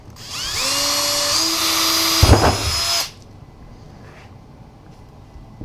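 A cordless drill whines loudly for about three seconds, pitch rising as it spins up and bites into a PVC enclosure, then cuts off, leaving quiet room noise.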